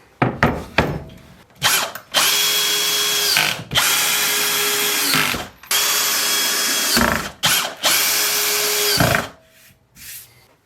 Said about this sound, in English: I've brought a dowel drill jig for drilling dowels.